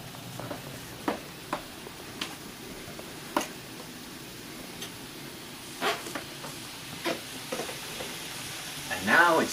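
Vegetables stir frying in a pan over medium-high heat give a steady soft sizzle, broken by sharp clicks and scrapes of stirring and a louder burst of crackling near the end.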